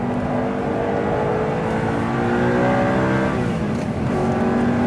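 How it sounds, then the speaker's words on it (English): An Audi R8 on the Nürburgring braking hard and downshifting into the Carousel, a loud continuous engine drone with falling and rising whining pitch as gears drop, heard close from inside the car. "Now we're coming to very hard braking zones. We need straight line braking. Drop down the box."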